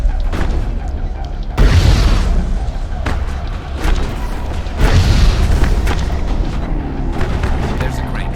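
Grenade explosions in the video game Mass Effect, two heavy booming blasts with rumbling tails among ongoing game combat sounds and gunfire, loud and close.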